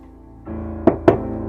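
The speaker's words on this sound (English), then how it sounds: "when my mom knocked on the door." Two sharp knocks on a door, close and loud, come in quick succession over a low hum with soft music underneath.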